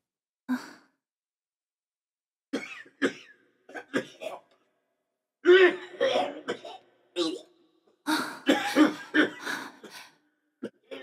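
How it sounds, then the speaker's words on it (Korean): Repeated coughing and throat clearing from the far end of a corridor in separate bursts with quiet gaps, some harsh fits, sounding moderately close in an echoing space. "복도 저 끄트머리 기침을 계속하는 분,"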